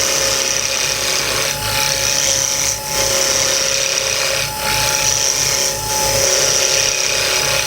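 A wood lathe spins a wooden pen blank while a tool makes gentle, light cuts, giving a steady motor whine with rhythmic scraping pulses that dip briefly every second or so.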